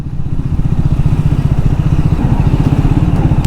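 A Triumph Speed 400 motorcycle rides over a rough road patch, its single-cylinder engine thudding in a steady, loud, rapid pulse throughout with faint clatter on top.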